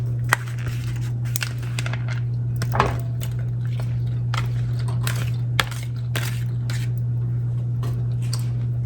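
Cooked pasta stirred into a creamy mac and cheese sauce, producing wet squishing and sticky squelching with repeated clicks of a utensil against the pan, steady and close, over a constant low electrical hum.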